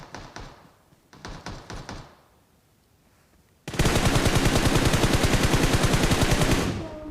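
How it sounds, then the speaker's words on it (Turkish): Automatic gunfire in PUBG Mobile comes first as short rapid bursts, then breaks into a long, loud, unbroken stream of rounds that holds for about three seconds before cutting off. "Biri daha vuruyor."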